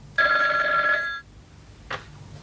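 A telephone bell rings in one sustained burst of about a second inside an office in a classic drama, followed by a short faint click, with no talking.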